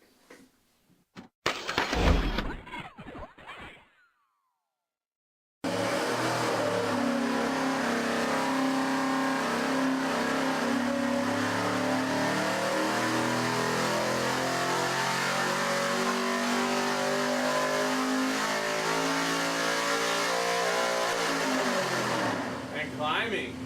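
An engine runs on a dyno test with 20W50 full synthetic oil, revving in a long, loud, steady climb after a short burst of clatter and silence, then winding down at the end.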